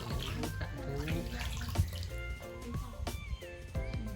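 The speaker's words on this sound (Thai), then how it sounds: "น้ำก็จะผุดขึ้นจากตรงนี้นะครับผมทั้งปีเลย" Water trickles and drips steadily in a small old village well inside a temple grounds, where clear spring water wells up year-round; a close, continuous gurgling splash with no talking.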